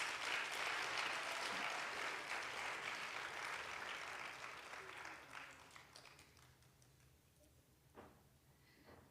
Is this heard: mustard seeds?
no